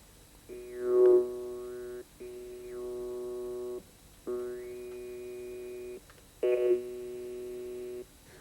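An electronic synthesizer built to mimic the resonances of a human vocal tract, its tone shifted by a joystick, sounds in four sustained buzzy bursts. Each burst has sliding, vowel-like resonances and short gaps between them, with no speech.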